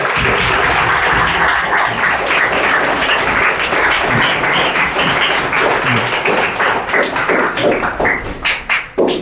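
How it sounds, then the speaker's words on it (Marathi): Loud, sustained applause from a school audience greets a student at an Olympiad result ceremony, dense clapping continuing steadily before thinning into scattered claps at the end. "ईश्वरी टोपरेचं खूप जोरदार टाळ्या वाजून या ठिकाणी स्वागत."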